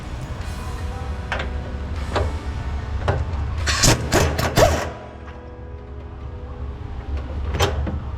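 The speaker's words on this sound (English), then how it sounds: "We're gonna open the cab up so we can have access to the other side of the engine." The cab of a Takeuchi TL12 track loader is opened with scattered metallic clicks and clunks, then a loud rattling burst of latch and hinge noise near the middle, followed by quieter knocks.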